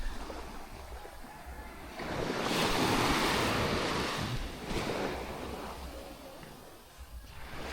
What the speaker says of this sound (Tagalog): here, look at the beach.